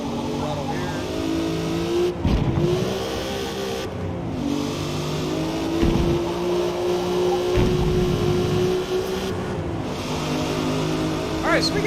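Race car engine in Forza Motorsport revving and accelerating hard through gear changes, a loud continuous whine with brief dips at each shift, while a person talks over it.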